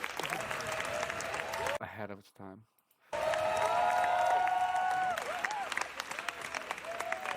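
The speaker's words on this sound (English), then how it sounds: "How much clapping can we clap?" Audience applause and cheering from a large crowd, a steady wash of clapping that breaks off briefly and then returns louder, with someone talking over it.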